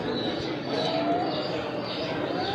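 Pigeons cooing at a busy village pigeon market (Lauhati kobutor haat), a steady low murmur of coos and chirps under constant crowd chatter and background voices.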